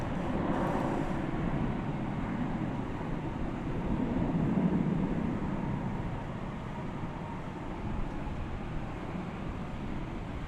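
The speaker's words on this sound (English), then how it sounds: "There's American Flight 577 rolling down the runway." An American Airlines airliner rolls down the runway on takeoff at DFW Airport at night, a distant, steady broadband jet roar heard from afar without talk.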